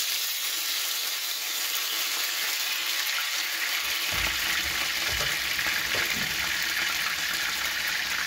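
Battered, marinated meat dropped into hot oil, a loud, steady crackling sizzle with bursts of bubbling and popping that continues for several seconds.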